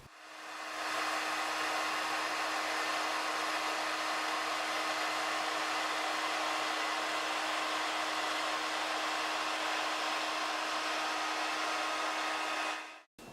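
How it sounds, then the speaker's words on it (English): A hairdryer blows a steady, continuous whir of air with a constant motor hum across a model sailing yacht, running evenly for about twelve seconds before cutting off. "I am demonstrating how this works by simulating boat speed using a hairdryer."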